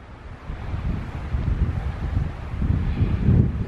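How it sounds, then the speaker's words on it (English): Wind gusting through Harwood Forest on a breezy evening, a steady low rushing roar with microphone buffeting that swells and builds toward the end, with no talking. "It's a bit breezy"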